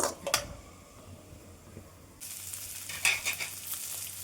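Ingredients frying in a pan until browned for a home-cooked Kannada-style sambar, a soft steady sizzle with a few stirring scrapes near the start, growing a little louder and busier in the second half.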